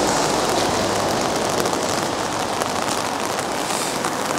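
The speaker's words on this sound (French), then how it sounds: "Et comme vous voyez, ça pleut" Steady, dense rain patters on and around a Tabbert Paris 685 MD caravan, a loud, even hiss of drops that continues without a break throughout, with no talking.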